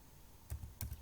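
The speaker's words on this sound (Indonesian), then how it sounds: "kita ketik sama dengan v" A few quick, faint keystrokes on a computer keyboard as a spreadsheet lookup formula is entered, two short clusters of clicks in a quiet room.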